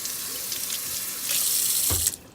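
A kitchen tap runs water onto a clean cloth rag during home canning of peaches, a steady close hiss that briefly splashes louder near the end before the flow cuts off.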